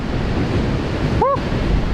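Ocean waves wash onto a beach before sunrise, a steady, dense surf hiss with wind buffeting the microphone and a brief high squeal near the middle.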